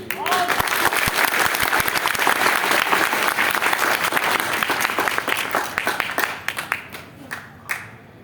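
Audience applause at a Jan Suraaj gathering at Satyagraha Ashram in Patna, loud dense clapping filling most of the stretch before thinning into scattered final claps.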